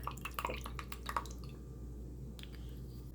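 Sauce pouring onto chicken makes soft wet drips and squishy splats in a quick irregular cluster that then fades into a quiet low hum.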